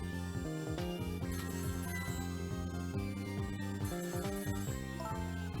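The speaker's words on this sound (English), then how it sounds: "The phone is ringing." A ringing telephone in the video game Ghost Trick, heard as a steady tonal ring layered over dense game music that fills the whole clip.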